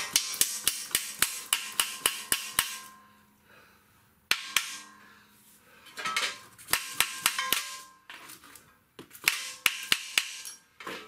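Sharp, ringing hammer strikes drive a dowel home during a 2005 Ford F150 transmission install, coming in quick rhythmic bursts of several hits with short pauses between, loud and close in a workshop.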